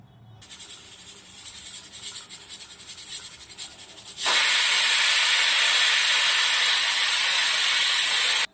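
A pressure cooker whistle: a loud, steady jet of hissing steam bursts out and holds for several seconds, following a quieter rattling hiss, then cuts off abruptly.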